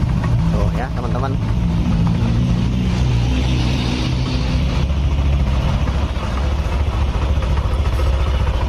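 A Yamaha Nmax scooter engine idles smoothly, a steady low rumble running throughout while someone talks over it.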